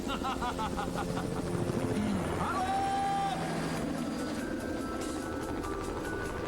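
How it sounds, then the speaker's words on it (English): A news helicopter passes overhead at night during a Christmas-season rooftop scene, its steady rotor drone sitting low and continuous beneath busy ambient noise and faint musical tones. "Here comes a news copter."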